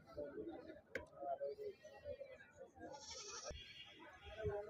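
Goats bleating at the Siddipet livestock market in Telangana, several short calls rising over a busy crowd with people talking nearby.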